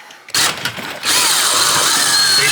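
A power drill whirs up loudly and close, stutters briefly, then runs steadily as it backs out screws fixing a 50-year-old heater to the wall; no one speaks.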